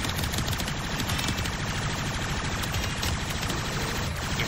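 Sustained automatic gunfire in the Warframe video game, a dense, rapid, unbroken stream of shots at steady loudness for several seconds with no talking.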